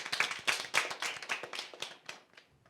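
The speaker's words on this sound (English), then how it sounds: "Please put your hands together for Amoya." An audience claps at a spelling bee competition in a short, moderately loud burst of applause. The claps come rapidly and overlap, then thin out and fade within a few seconds.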